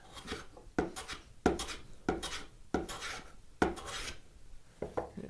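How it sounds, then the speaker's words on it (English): A woodworking hand plane is dragged backwards over a wooden board, making a series of about eight rhythmic rasping strokes, close and fairly quiet. "Because you are actually dulling the blade a little bit when you drag it backwards."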